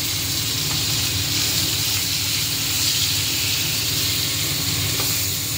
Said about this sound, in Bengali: তারপর অ্যাড করছি টমেটো কুচি